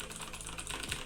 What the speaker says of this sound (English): This is a mechanical keyboard